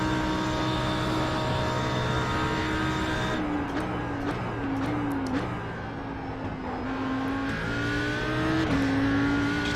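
An Audi R8 GT3 engine lapping Bathurst in a racing video game, a loud continuous engine tone that rises and falls through gear changes and throttle lifts, with no talking.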